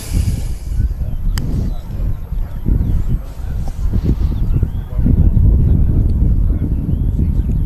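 Steady wind buffets the microphone at an outdoor viewpoint at Manchester Airport, a loud low rumble gusting in uneven waves throughout.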